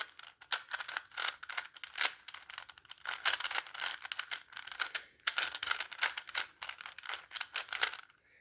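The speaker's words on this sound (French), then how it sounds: "on peut d'abord mélanger un cube." A 3x3x3 Rubik's Cube being scrambled by hand: quick, crisp plastic clicks and clacks in fast uneven bursts, close and fairly quiet, with brief pauses between twists.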